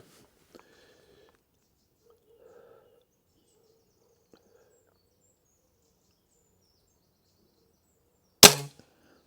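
A Weihrauch HW57K .177 air rifle fires a pellet: after long near-silence, one sharp, close crack near the end with a brief tail.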